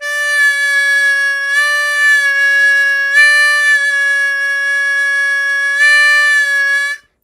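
Harmonica 4 draw note bent down a half step: a single sustained reedy tone held for about seven seconds with slight pitch wavers and swells, close and loud, ending abruptly.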